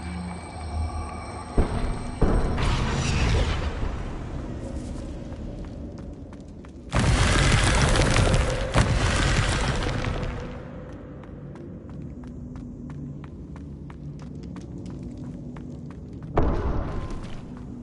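Confringo blast spell from Hogwarts Legacy: a loud, broad explosive burst erupts mid-clip and rumbles for about three seconds, with a smaller boom near the start and another at the end, amid quieter game sounds and footsteps.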